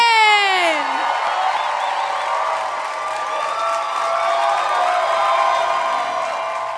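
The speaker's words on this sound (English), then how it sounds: "Y'all start clapping right now" A comedy club audience claps and cheers for headliner Josh Johnson, a dense, continuous wash of applause and whoops that holds steady from start to finish after a short rising whistle.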